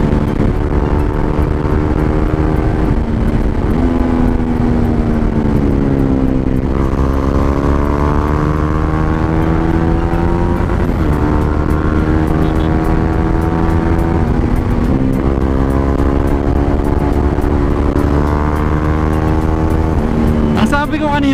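A touring motorcycle ridden fast, its engine droning steadily loud with rising and falling pitch through gear changes as it accelerates, heard from an onboard camera with wind rush, with no talk over it.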